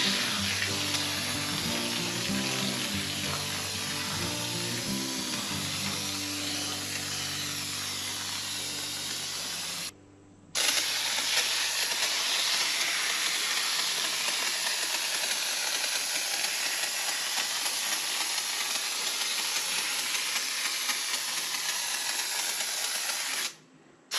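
DIY spray foam insulation sprayed from a nozzle onto a cleaned surface, a loud continuous hiss that runs steadily, breaks off briefly partway through, then resumes and stops near the end; a low mechanical tone sounds early on.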